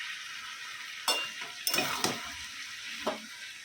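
Ridge gourd and potato posto cooks in a pan, a quiet steady sizzle broken by four brief scraping stirs of a utensil against the pan.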